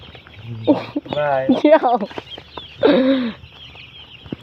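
Desi chickens clucking close by in short bursts, their calls rising and falling, with a brief pause between them.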